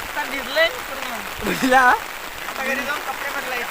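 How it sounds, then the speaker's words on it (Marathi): Heavy rain pours steadily outdoors on a muddy street in Ulwe Sector 16, a broad continuous hiss running throughout while voices talk over it. "पाऊस पण जोराचा वाढला आता"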